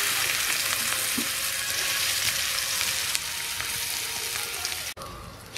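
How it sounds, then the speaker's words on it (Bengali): Chopped onion frying in hot oil in a home kitchen, a loud steady sizzle with occasional stirring scrapes that carries on without talk before a brief cut near the end. "পেঁয়াজ কুচি দিয়ে দেব গরম তেলে"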